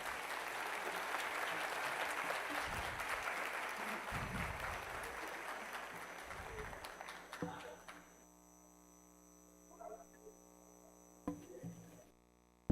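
Applause for a judiciary's IT team during an online session, a thin, somewhat distant clapping wash with mains hum beneath that dies away after several seconds, leaving hum and a few faint clicks.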